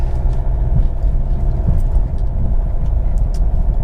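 Steady road rumber fills the cabin of a Vauxhall Mokka 1.7 CDTi diesel SE automatic on a road test, a loud continuous low drone of engine and tyre noise with no talk.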